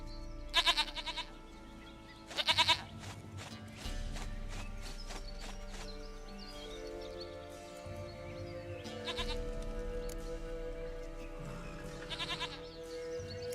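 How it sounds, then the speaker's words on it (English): A goat in the video game The Witcher 3 bleats repeatedly in short, wavering calls, with a low steady hum of game music and ambience running beneath. "Goat of mine, dearest,"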